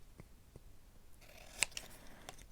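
Scissors trimming paper for a crime-themed junk journal, a few quiet, close snips with one sharper cut standing out midway against a hushed room.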